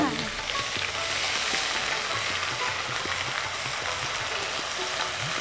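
Three tablespoons of onion sizzle in hot oil in a pan while being stirred, a dense continuous crackling fry with faint spoon scrapes, close and steady throughout.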